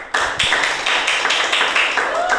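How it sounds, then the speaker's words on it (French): A studio audience on a television talk show claps steadily and fairly loudly, a dense continuous patter of many hands with a few louder individual claps standing out. "On applaudit."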